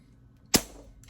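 A single sharp, muffled shot from a Crosman 2240 air pistol fitted with a TKO moderator, a quick crack with a short decaying tail, alone in a quiet room.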